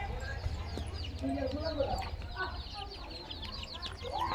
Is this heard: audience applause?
no